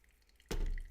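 Hot water is poured over a paper coffee filter to rinse it and warm the vessel, starting abruptly as a soft close splash that turns into a steady trickle after a few faint drips.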